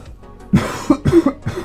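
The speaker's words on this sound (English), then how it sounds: "Stop coughing" A quick run of about five coughs, close by and fairly loud, each a short throaty burst following closely on the last.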